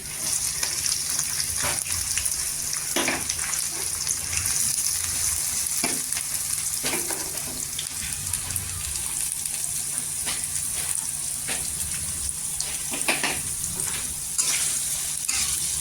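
Onions frying in a pan with curry leaves for pav bhaji, a steady loud sizzle throughout with occasional stirring scrapes and clinks close by.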